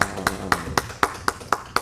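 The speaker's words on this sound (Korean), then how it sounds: "우리 하나님 앞에 큰 영광의 박수 한번 올려드리고요" A church congregation claps together at the close of a service, a steady rhythmic beat of about four claps per second, moderately loud and with no talking.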